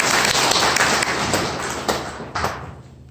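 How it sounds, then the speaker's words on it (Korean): Lecture audience at a talk on the Aunae independence movement applauding warmly, a thick wash of many hands clapping at once that gradually thins and fades over three seconds. "다시 한번 뜨거운 박수 부탁드리겠습니다"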